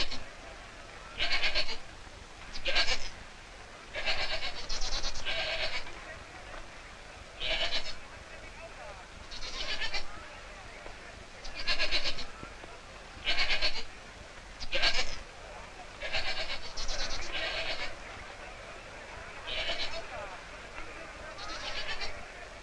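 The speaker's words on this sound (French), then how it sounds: "on amena sur la montagne tout un troupeau de chèvres" A herd of goats bleating in repeated short calls, several animals overlapping at close to mid distance, with faint background noise between calls.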